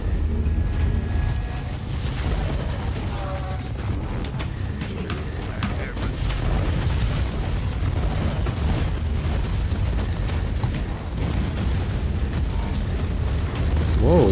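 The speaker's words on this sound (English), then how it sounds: "Explosion, man, come." Explosions in the action game Warhammer 40K Inquisitor, a dense stream of deep rumbling booms and bursts layered with game effects, loud and continuous, with no speech over them.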